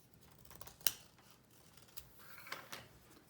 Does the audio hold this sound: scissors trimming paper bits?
yes